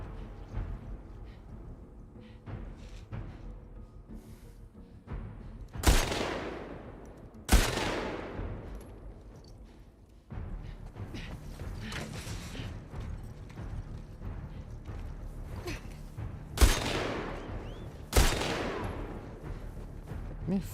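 Rifle shots in a first-person shooter video game: a handful of sharp, loud cracks fired singly at irregular intervals, each with a decaying tail, between stretches of quieter in-game background noise.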